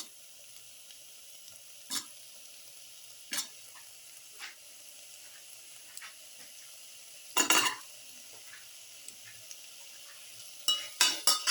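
Tomato pieces are stirred into a frying mixture in a pan, with a quiet constant sizzle broken by sharp spatula scrapes, a few single strokes followed by a quick burst of scraping near the end.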